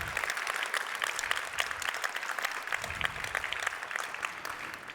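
Audience at a French-language conference talk claps, the individual hand claps fairly distinct and scattered rather than a thick roar, continuing at a moderate level for several seconds.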